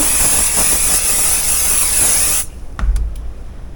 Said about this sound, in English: I'm gonna give it a good spray